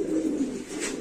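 A Lahori pigeon at a pigeon farm gives a soft, low cooing call, close and steady for about a second with no other sounds.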